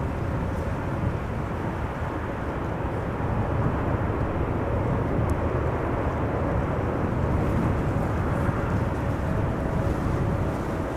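Airliner landing on the Kaagbaan runway at Amsterdam Schiphol Airport, a steady broad roar of jet engines and rushing air heard from a distance, constant in loudness throughout with no talk.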